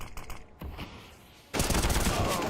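Automatic gunfire in a Counter-Strike match shooting through smoke: a few light shots, a short lull, then a loud sustained burst of rapid fire.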